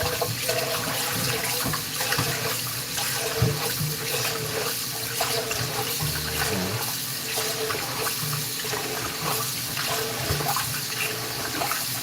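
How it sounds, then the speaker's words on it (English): Tap water runs steadily into a kitchen sink while rice is being washed, a continuous close splashing rush that holds for the whole stretch with small surges and clatters, and no talking. "Wash up this rice."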